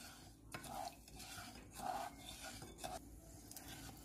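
Sugar syrup being stirred in a pan for bread gulab jamun, soft repeated scraping strokes of a spoon across the pan bottom with faint gritty rubbing, quiet and close, in a steady uneven rhythm.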